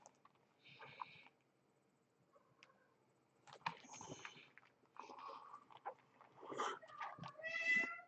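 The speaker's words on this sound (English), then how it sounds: "There's my cat." A house cat meows several times indoors, short mewing calls scattered across the clip with quiet gaps between, close and moderately loud, growing more frequent toward the end.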